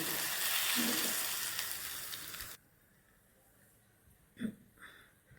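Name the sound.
sizzling spice tempering poured over raw mango ambosHi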